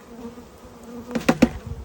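Bees buzzing at a beehive, a faint steady hum with a few louder close passes near the end, no voices.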